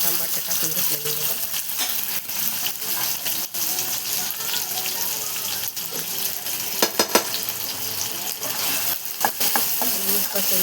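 Onion and tomato fry in oil in a pan for a pea thecha chutney, a constant crackling sizzle with scattered clinks and scrapes of stirring throughout.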